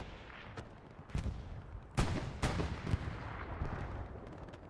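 A 75 mm light tank gun fires in a Hell Let Loose battle amid distant gunfire and explosions, with several sharp loud booms at irregular intervals over a rumbling backdrop.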